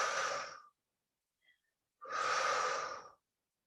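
Two long, breathy exhalations during a Pilates exercise, each near and steady, separated by a short silence with a faint tiny sound between them; no talking.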